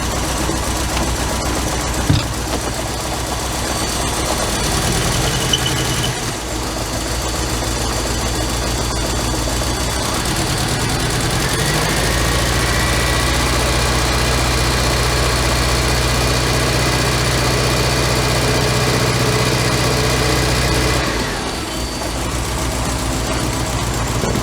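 A 1985 Merkur XR4Ti engine idling roughly, heard close and loud as a steady, uneven rumble with a faint knocking edge, holding for over twenty seconds with small dips near the start and end.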